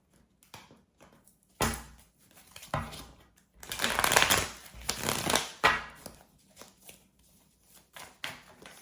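Tarot cards shuffled by hand with broadband riffling and rustling bursts, the loudest stretch in the middle, followed by a few cards slapping down; close and fairly quiet with no talking.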